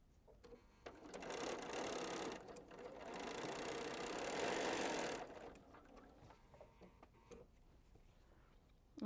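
Sewing machine stitching a quilt block, a fast whirring run that starts, speeds up, then stops after a few seconds, followed by quieter handling noises, close and clear.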